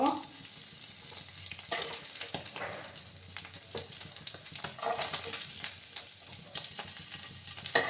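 Paneer cubes frying in oil in a pan, with a steady dense sizzle and crackle and occasional stirring scrapes, close and continuous throughout.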